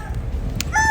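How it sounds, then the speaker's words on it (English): Chicken calls on Duval Street in Key West early on a Saturday morning, a brief close fowl call rising over low outdoor rumble, with a short noise burst midway. "Duval Street, just me and the chickens."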